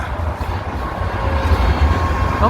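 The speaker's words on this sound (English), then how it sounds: "There's a tram coming in the direction." A tram arrives on a street in Sheffield, a loud, close low rumble of wheels and motor that builds slightly, with a faint squeal near the end.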